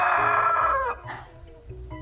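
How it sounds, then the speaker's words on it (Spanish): A rooster crows once, a loud, close, strained call that falls in pitch before breaking off, followed by a quieter tail of softer clucking and faint farmyard noise. "¡Es un gallo! Vamos a escuchar el sonido que hace."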